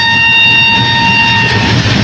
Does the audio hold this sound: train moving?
yes